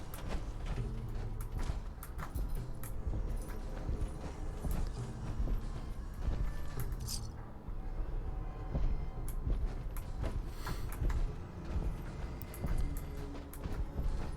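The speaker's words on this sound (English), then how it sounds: "Sounds like big footsteps." Heavy, rhythmic footsteps stomp through the Fallout video game, a steady run of thudding clip-clop-like impacts that continues throughout against dense in-game background noise.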